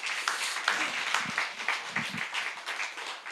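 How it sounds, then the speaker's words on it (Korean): Light applause from a church congregation during a Korean sermon, scattered claps pattering steadily at moderate distance throughout, with no voice over it. "이럴 때도 살짝 박수를 한번 쳐도 되는데요."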